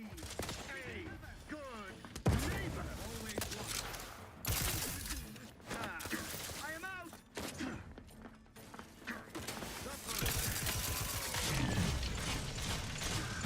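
Rapid video game gunfire in a first-person shooter, bursts of shots and mechanical clicks crackling through a busy battle mix, with a player talking over parts of it.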